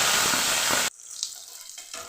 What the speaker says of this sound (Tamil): இப்போ வெங்காயம் போட்டுக்கலாம்.